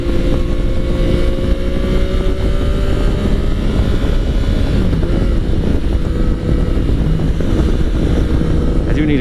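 A 2017 Yamaha FJ-09 motorcycle engine drones loud and steady while riding, with continuous wind rush over the microphone throughout.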